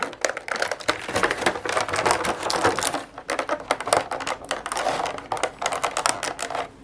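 Scissors snip and crunch through the cardboard and plastic packaging of a McFarlane Gold Label Blood Angels Primaris Lieutenant action figure: dense, close, irregular clicking and crackling cuts running steadily throughout.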